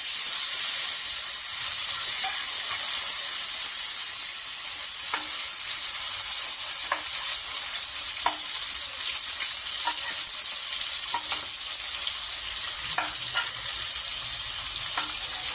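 Tomatoes and green chillies frying in a pan while rava upma is made, giving a steady close sizzle with occasional stirring clicks throughout and no talk.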